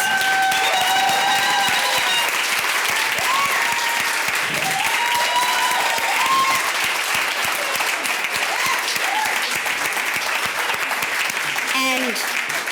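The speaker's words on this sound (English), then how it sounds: "I want the entire room, except for the legends, to stand up so that we could also give them a round of applause" Standing room at a road running Hall of Fame induction applauding its legends, a long dense roar of clapping with scattered cheers and whistles, voices calling out over it.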